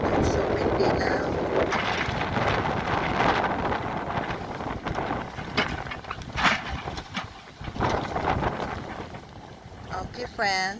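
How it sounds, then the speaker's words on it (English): Strong gusty wind buffets the microphone outdoors at an excavation site where a small excavator is working, a loud rumbling that rises and falls, with brief faint voices and some scattered clatter underneath. "It's so windy now."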